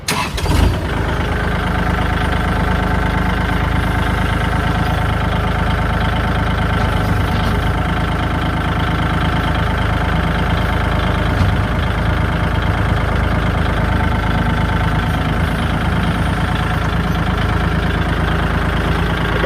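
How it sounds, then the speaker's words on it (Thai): A Kubota L4018 tractor diesel engine turns over and settles into a steady, loud idle, a constant low rumble with no voices. "ดี๋ยวเราลองมา สตาร์ทเครื่องยนต์นะครับ"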